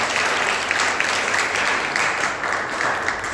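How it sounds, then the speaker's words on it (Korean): A church congregation at a mission Sunday service applauds to welcome a missionary, with broad, continuous clapping filling the room at steady loudness. "선교사님 잠깐만 일어나 주시면 큰 박수로 환영하겠습니다."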